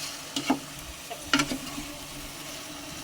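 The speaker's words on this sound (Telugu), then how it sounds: "ఆయిల్లో అయితే వేసి కలుపుతున్నానండి. ఇవి ఫిష్ కాబట్టి ఎక్కువ కలుపుకోవద్దు" Fish pieces fry in oil for a Telangana-style fish curry, a low soft sizzle broken by a few sharp clicks and scrapes as the pieces are gently stirred.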